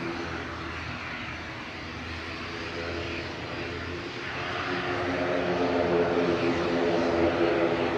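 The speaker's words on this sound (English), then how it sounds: "Noisy prop." Noisy propeller aircraft at Manchester Airport, a steady droning engine roar that grows louder toward the end, heard outdoors with faint background voices.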